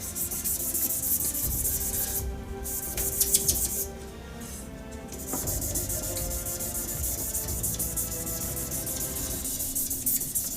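Resin shaving brush handle blank being sanded with fine 3200 grit abrasive, a steady soft rubbing hiss running throughout with brief lighter pauses, close and moderately loud, with faint bird chirps in the background.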